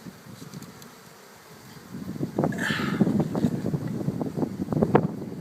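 Honeybees buzz steadily around open beehives outdoors on a farm, a dense swarm drone that swells louder after a quiet start, with light wind noise and a brief higher whine from a bee passing close.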